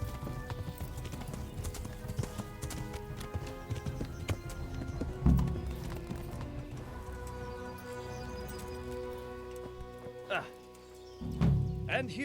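Galloping hooves of a horse ridden in a medieval video game, Kingdom Come: Deliverance, a steady clip-clop running throughout with a brief whinny, while people talk over it.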